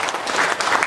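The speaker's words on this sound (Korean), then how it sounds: "박수로 그냥 추인해 주실 거예요." Shareholders at a 2015 annual general meeting break into brief, loud applause: a dense burst of clapping from a crowd in a hall, lasting under a second.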